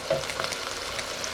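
Chicken sausage burger patties sizzle in hot oil in a pan over medium-high heat, a close, continuous crackling fry with small pops.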